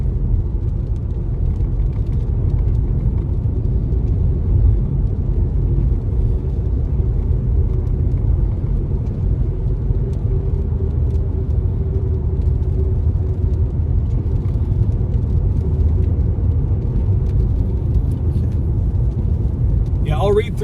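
Steady low road rumble and engine drone fill the cabin of a car driving past tall trees near Lake Stevens, Washington, as a continuous, fairly loud noise with no distinct breaks.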